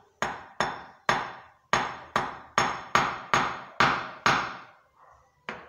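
A Sorrisal tablet being broken with about ten sharp, close knocks, spaced roughly evenly and each ringing briefly, followed by a pause and one final strike.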